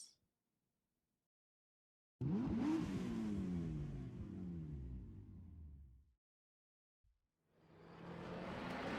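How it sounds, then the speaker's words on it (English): A car is driven off with a loud, revving engine whose pitch climbs as it accelerates away for several seconds before cutting out. After a short gap, another engine roar swells up. "Bet you weren't expecting a zombie to drive a car."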